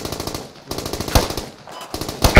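.50 cal machine gun in the video game Squad firing in rapid bursts, loud and close, with sharp repeated reports separated by brief pauses.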